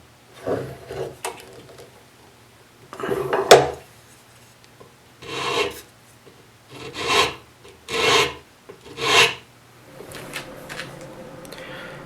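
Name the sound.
hand sanding wood block with 80 grit sandpaper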